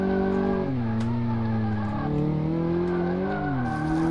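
A car in Car Mechanic Simulator 2018 runs a brake test, its engine tone sliding down and up in pitch as the tires squeal and skid, loud and continuous with no talking.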